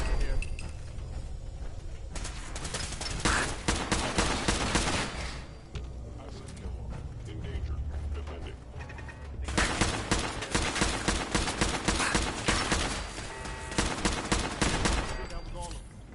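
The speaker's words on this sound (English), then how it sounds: "The laser turrets are insane in this game." Laser turrets in a video game fire dense, rapid volleys of mechanical zapping shots, loud and nearly continuous with a brief lull partway through, while a voice talks over them.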